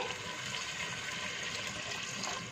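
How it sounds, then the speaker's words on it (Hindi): Water pours into beef karahi in a pressure cooker, a steady close gushing splash lasting the whole moment without any voices. "इसका गोश्त गलाने के लिए इसमें तकरीबन 700 ml पानी शामिल करेंगे"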